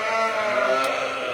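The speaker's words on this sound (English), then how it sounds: "noisy sheep" Sheep on a farm give a short, close bleat that stands alone and is clear against a quiet background.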